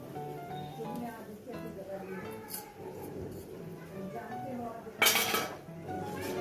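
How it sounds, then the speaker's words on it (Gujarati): Sago pearls go into a cooking pan for sabudana khichdi with tomato, giving light metallic clinks and scraping against the pan under continuous talking, with a brighter rattle near the end. "હવે આપણે સાબુદાણા પણ નાખી દઈએ આમાં"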